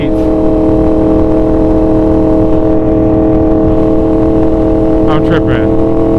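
A 2015-2019 Yamaha R1 sport bike sits with its engine held at a fixed, high rpm, like a launch-control limiter. It makes a steady, loud, buzzing drone that does not climb, and a voice briefly breaks in near the end.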